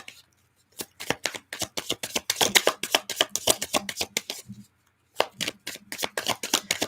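Tarot cards are riffled and tapped in quick close bursts, a rapid crisp flicking that runs for several seconds, pauses briefly, then resumes.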